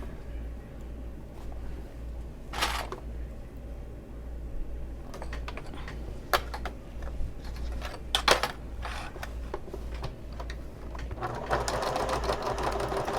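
A sewing machine stitches a seam on a fabric bag, a steady low mechanical hum with rapid needle clatter running throughout, punctuated by a few sharper clicks and a brief faster burst near the end, close up.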